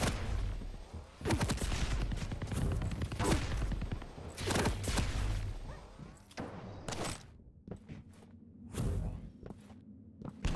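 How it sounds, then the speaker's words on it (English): Weapon fire in a Quake duel video game, rapid bursts of loud gunshots and explosive blasts in quick succession, with brief lulls between volleys and some quieter movement sounds. "And Bukster actually being the grown-up, switching to a weapon that gives you consistent damage, while Nosfa is missing his rail."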